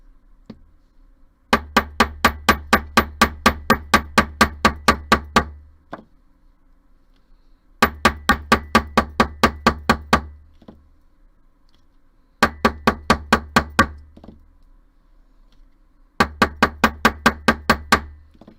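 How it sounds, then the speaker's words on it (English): A hammer strikes a metal bangle bracelet in rapid, sharp, evenly spaced taps, coming in four bursts of about a dozen blows each with brief pauses between, close and loud. "I'm going to hammer this all the way around."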